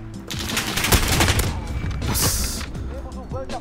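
Rapid submachine gun bursts rattle through an online shooter match, a dense fusillade of close, loud shots with a few isolated cracks mixed in, while a player talks over the gunfire.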